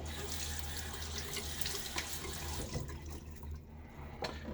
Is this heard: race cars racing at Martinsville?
no